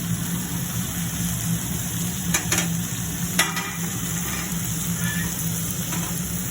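Tomatoes and onions sizzle in a pan for a beans masala curry, a steady fizzing hiss under a low hum, broken by a few sharp scrapes and clinks of stirring.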